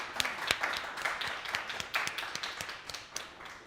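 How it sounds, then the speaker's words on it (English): A small audience claps at the close of a conference day, scattered individual hand claps ringing out distinctly, fairly quiet and uneven rather than a dense ovation. "I will just require an applause"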